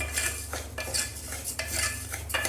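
A spoon scrapes and clinks against a pan as moong dal is stirred and roasted in ghee, giving repeated soft metallic scrapes over a faint steady hum, with no speech.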